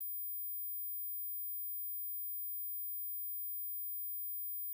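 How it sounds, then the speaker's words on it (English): A steady, high-pitched pure electronic tone holds unchanged for several seconds, faint and continuous, with no other sound around it. "If you heard this high frequency sound, like the video and leave a comment."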